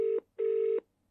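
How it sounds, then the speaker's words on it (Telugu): Two touch-tone telephone dialing beeps sound on an outgoing call, a short tone followed by a longer one, clean and close with silence between. "సో సెకండ్ టైం కూడా మీకు కాల్ చేసి వినిపిస్తున్నాను లైవ్లో"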